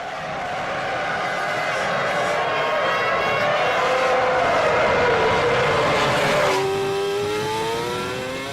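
Formula 1 race cars from the 2006 season scream past with high, rising and falling engine whines that sweep in pitch, loud and continuous, with a commentator's voice running over the racing.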